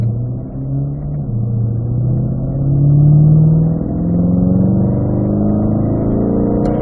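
A race car engine drones loudly and steadily from inside the cabin, its pitch climbing and dipping slightly as it pulls in fourth gear.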